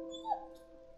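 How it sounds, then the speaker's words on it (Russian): A dog in the war game Valiant Hearts gives a single short, thin whimper over a steady tonal background hum, close and moderately loud. "О, пёнечка, собачечка."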